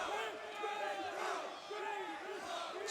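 Distant crowd of Virtus Pro fans at a CS:GO tournament chants and cheers in a sustained, muffled roar that stays steady and fairly faint throughout.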